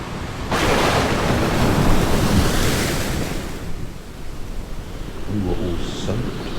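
Wind roars and buffets over open water while waves surge and crash around a small boat, a loud, continuous churning rush with gusts swelling and fading.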